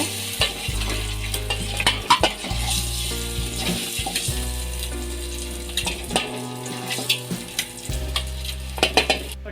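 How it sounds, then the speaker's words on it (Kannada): Eggs frying in a pan for egg biryani, a steady sizzle broken by repeated scraping and clanking strokes of a spoon stirring against the metal, with a low hum underneath and no talk. "ಈಗ ಎರಡು ನಿಮಿಷ ಮೊಟ್ಟೆ ಎಲ್ಲ ಫ್ರೈ ಆಗಿದೆ"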